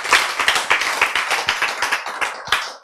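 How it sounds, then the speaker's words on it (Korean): An audience at a health lecture claps in thanks, a dense burst of many hands slapping together, loud and close, steady for a few seconds with no talk over it. "우리가 감사 박수를 드립니다"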